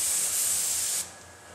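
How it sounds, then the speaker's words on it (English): Spray gun laying glaze across a door, a loud, steady close-up hiss that runs evenly for about a second before the spray cuts off and a quieter hiss lingers. "And we can do that with this particular gun, coating the whole door"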